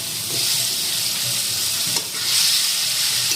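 Cut potato chunks frying with spice masala in hot oil make a loud, continuous close sizzle, with a brief stirring scrape partway through. No speech.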